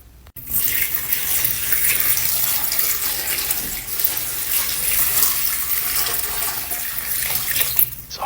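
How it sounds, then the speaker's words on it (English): A gallon of fresh spring water pours steadily into a container, a loud, continuous splashing rush close by that lasts several seconds with no speech over it. "Next, we're going to add a gallon of fresh spring water."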